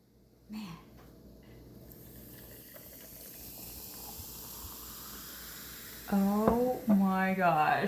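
Fermented ginger bug soda fizzes and hisses with a rising sizzle of bubbles as the bottle is opened, steady and close, while people react loudly with exclamations over it near the end.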